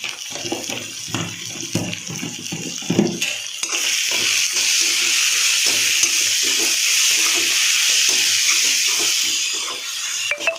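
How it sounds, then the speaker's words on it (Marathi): Spice tempering of garam masala, red chilli powder and green chilli sizzles steadily in a pan for a Maharashtrian brinjal bharit, a broad hissing crackle that builds after a few seconds of clattering and holds loud and even. "आता ही फोडणी एकदम मस्त होऊ द्यायची"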